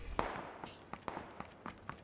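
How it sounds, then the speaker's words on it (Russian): Gunfire in a video game: a handful of sharp, distant pops spaced irregularly, faint and thin, with brief crackling reports. "Стрельба жестко идет."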